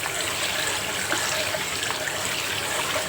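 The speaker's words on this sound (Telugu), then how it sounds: "ఇవి మంచిగా కడిగి బియ్యము ఇవన్నీ తెల్లగా వచ్చేదాకా కడిగేసుకొని" Rice rinsed in water for dosa batter, with continuous close splashing, swishing and trickling of water stirred by hand, no talk.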